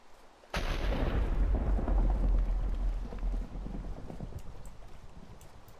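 A thunderclap in a Minecraft thunderstorm hits suddenly and loud after a quiet start, then rolls on as a long, deep rumble that slowly fades while rain hiss continues.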